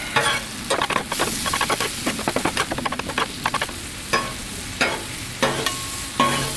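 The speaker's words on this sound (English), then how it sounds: "We're going to take our cheesesteak and we're going to mix it with the onions now." Shaved strip steak and onions sizzle on a Blackstone griddle while being mixed, a busy run of rapid spatula scrapes and taps over the frying hiss, slowing to a few separate strokes.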